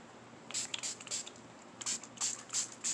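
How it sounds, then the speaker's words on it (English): Spray bottle mists onto a fluid art painting on a wooden coin box, several short quiet hissing bursts in an uneven rhythm, faint and close with no talking. "And let's spray this one more time before I pull that parchment off."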